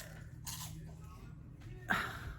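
A person chewing food close to the microphone, soft intermittent crunchy mouth sounds over a steady low background hum, with a brief louder burst near the end.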